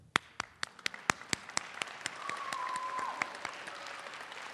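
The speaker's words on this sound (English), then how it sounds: "I'm going to clap for you." At a school winter concert, sharp, distinct claps ring out one by one at first, then thicken into a light patter of applause from a small crowd, with a faint tone drifting underneath.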